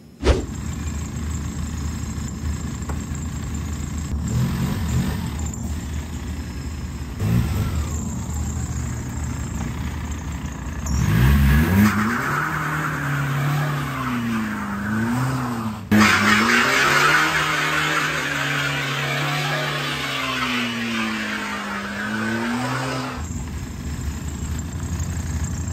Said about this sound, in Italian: andiamo a fare un piccolo burnout e vediamo un po' come si comporta